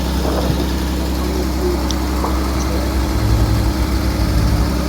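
A Caterpillar 320D excavator diesel engine idles steadily, a low constant rumble with even throbbing pulses that stays near and unchanged for the whole stretch, with no talk over it.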